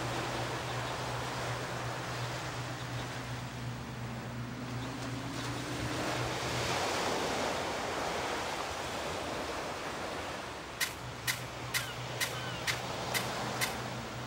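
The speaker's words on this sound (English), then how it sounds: "The sound of the waves is so peaceful." Calm sea waves lap softly in the Tales of Legendia video game, a steady, quiet wash of water under a low game hum, with a few sharp chime-like ticks near the end.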